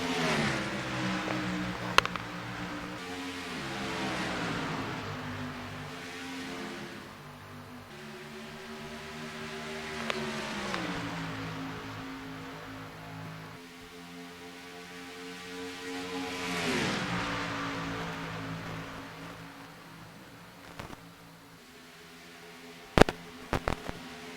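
Race cars start the Texas 500 at Texas Motor Speedway, their engines rising and falling through repeated upshifts in a layered, sustained roar, with a few sharp clicks near the end and no voices.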